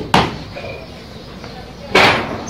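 A door bangs twice as someone comes in, two sharp, loud slams about two seconds apart, each with a short ringing tail, in a quiet room.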